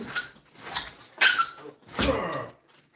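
A pool noodle wedged into the gap of a sliding glass window squeaks in four loud, close rubbing bursts, the last one drawn out longer.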